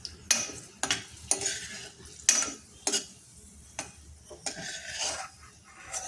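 Ingredients frying in a pan for pineapple rava kesari, with repeated sharp scrapes and clinks of a spoon stirring against metal over a faint sizzle, no voices.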